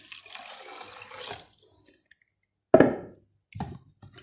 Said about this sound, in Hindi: ये देखिए इसमें पानी डालेंगे